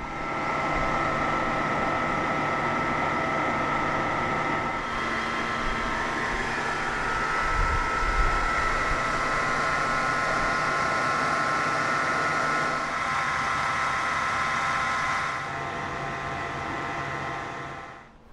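A 2009 BMW 740Li runs at idle with a steady, broad engine hum and a faint whine, holding even for most of the stretch before its level drops slightly near the end.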